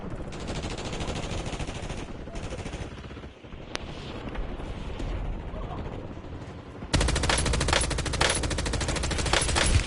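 Machine gun fire in a Plunder video game match sounds in sustained rapid bursts, with a short pause midway and a louder, denser stretch of fire near the end.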